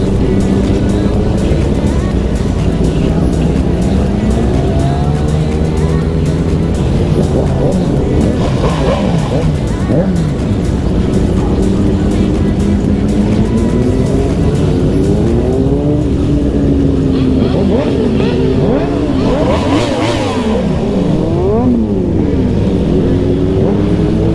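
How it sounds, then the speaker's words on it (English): A Yamaha R1 motorcycle engine rumbles loudly and continuously with repeated rising and falling revs, throttle swells coming and going over a steady idle. "Probably should stop revving my bike."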